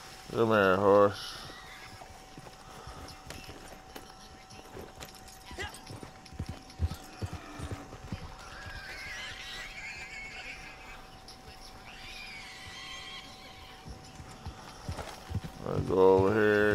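Steady clip-clopping hooves of a horse in Red Dead Redemption 2 trot along at an even pace, with the horse whinnying at the start and end and faint background game noises.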